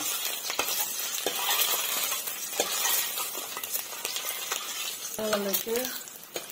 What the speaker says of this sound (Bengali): লাহে লাহে ভেজে নিব